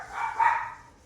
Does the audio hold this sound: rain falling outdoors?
no